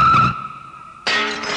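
A motorcycle skid sound effect for a puppet show: a short sharp tire squeal, a brief tonal lull, then a loud rough screech that cuts in abruptly and fades a little, with no voices.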